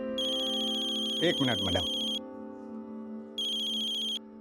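A mobile phone ringtone signals an incoming call, a loud tonal ring that plays, stops, then starts again, while someone speaks briefly over the first ring.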